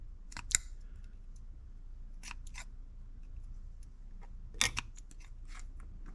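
Scissors snipping material during an ABS switch install on an Audi S3: a few sharp cuts spaced apart, one near the start, a pair around two seconds and one more near the end, over a low steady background hum.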